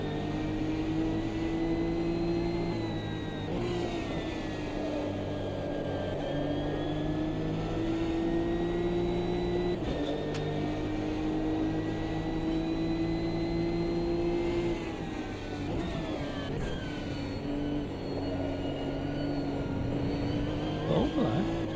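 A Nissan race car engine in Automobilista 2 drones loud and close through a long run, its steady revving tone climbing and dipping with gear changes and throttle lifts.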